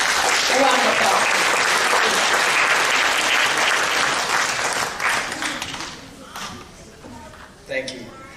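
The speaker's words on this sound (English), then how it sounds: "A round of applause." A large gala audience applauds loudly and steadily for several seconds before the clapping thins out and fades to scattered claps, with a few faint voices as it dies down.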